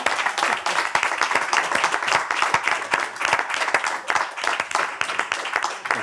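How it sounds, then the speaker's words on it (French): Audience applause at the Les Mots en Or 2025 final, a dense, steady burst of many hands clapping, fairly close and moderately loud, with no talk. "Bravo, on peut les applaudir."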